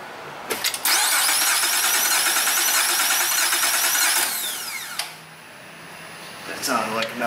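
Honda Ridgeline engine cranking over on the starter during a compression test with a misfire, a loud steady rhythmic churn lasting about three seconds, then dying away before a brief second whir near the end.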